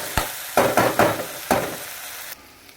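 Washed chicken pieces drop into a pan of frying chicken curry, giving a few loud splashing sizzles and stirring scrapes in quick bursts, then the sizzle settles to a quieter hiss.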